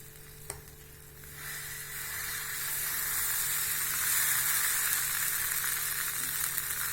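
Dosa batter poured onto a hot dosa griddle, a near, loud hiss that builds within seconds into a steady sizzle, with one brief click at the start and no talking.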